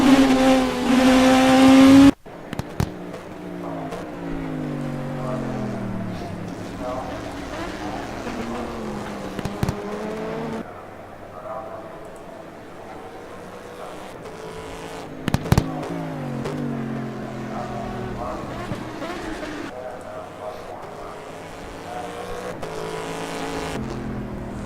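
IndyCar race cars at Sebring roar around the track, engine pitch rising and falling through gear shifts as cars pass, with a loud burst at the start and occasional sharp pops, no talk.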